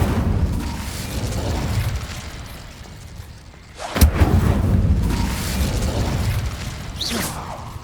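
An Incendio fire spell is cast in the video game Hogwarts Legacy, releasing a sharp whooshing burst that flares into a rumbling roar, with a dull rushing background around it.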